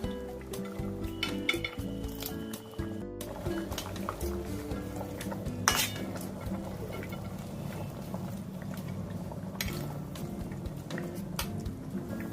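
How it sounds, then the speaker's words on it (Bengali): Fried tengra fish go into a simmering potato-and-eggplant curry in a pan, with clattering of a utensil against the pan, a sharp clank and soft wet stirring and bubbling throughout. "ভেজে রাখা ট্যাংরা মাছগুলো দিয়ে দিলাম।"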